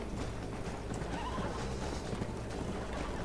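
A horse whinnies in the Red Dead Redemption video game set in Mexico, the neigh mixing with steady clip-clop hooves and ambient game sound, no one talking.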